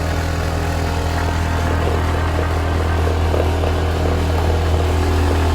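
A motorcycle engine labors continuously on a rough, broken road, a loud close drone with steady low rumble and uneven strain throughout.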